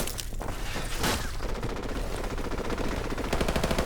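Sustained machine gun fire and rapid gunshots rattle continuously through a loud battle in Call of Duty Modern Warfare Remastered, with dense overlapping bursts and no pause.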